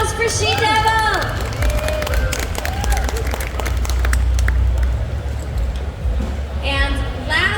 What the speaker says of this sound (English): Round of applause for She-Devil.